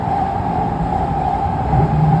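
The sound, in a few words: train passing by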